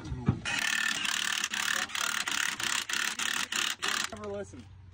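A ratchet tightening bolts on a Nissan drift truck, rapid clicking pawl bursts in repeated strokes with brief pauses between pulls, close and loud, followed by a short spoken remark at the end.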